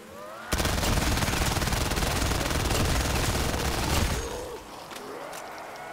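Rapid continuous automatic gunfire from a gun in Black Ops 3 Custom Zombies, a loud dense burst lasting about three and a half seconds, then cutting off into quieter game noise.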